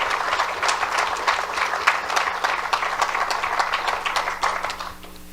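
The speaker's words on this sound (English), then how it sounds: "So we'll give them a round of applause." An audience at a city council meeting applauds with steady, dense clapping that holds for several seconds and then tapers off, with no talking over it.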